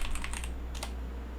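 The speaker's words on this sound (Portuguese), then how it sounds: "Se eu digitar Java -version" Keys on a computer keyboard click in a quick burst as a terminal command is typed, then a pause and a couple more taps. The keystrokes are close and moderately loud, with no speech.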